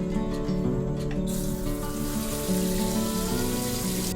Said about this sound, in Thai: ให้เราล้างน้ำแรกเนี่ยหนึ่งถึงสองน้ำก่อนนะคะ ล้างด้วยน้ำสะอาดธรรมดาเนี่ยค่ะ